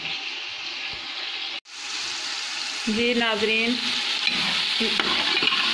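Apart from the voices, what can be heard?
tempering bay leaf and cumin frying in desi ghee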